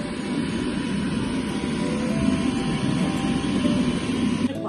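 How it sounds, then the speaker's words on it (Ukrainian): A 3D printer prints a keychain in a school STEM lab, giving off a steady, unbroken mechanical whir and hum that holds at an even level throughout, with no voices. "принтеру висилаються дані, і він починає друкувати. У нас так зараз у процесі є друк одного брелока"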